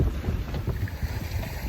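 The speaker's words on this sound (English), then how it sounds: "We got a nice southwest wind." Steady southwest wind rushing over a small sailboat under way, a continuous broadband buffeting roar against the microphone.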